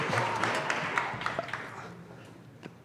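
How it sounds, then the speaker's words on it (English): Audience at a tech conference claps for a speaker taking the stage, a moderate burst of scattered hand claps that thins and fades toward the end, with individual sharp claps standing out. "Round of applause for AJ."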